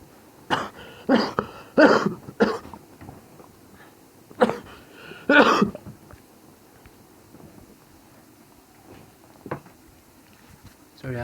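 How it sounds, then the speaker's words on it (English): A man coughs in several harsh bursts close to the microphone, a cluster of coughs followed by two more after a pause, then a quiet faint stretch with a few soft sounds. "I have a little bit of cough"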